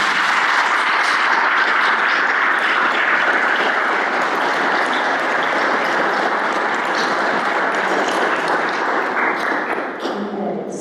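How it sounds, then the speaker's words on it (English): Sustained applause from an audience at a League of Women Voters candidate debate in New London, steady and dense for about ten seconds before thinning slightly at the end. "let's give them a round of applause"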